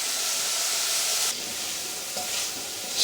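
Chopped leek cooks gently in a saucepan with rosemary and a bay leaf for shepherd's pie, giving a soft, even hiss and sizzle, with a brief stirring scrape near the end.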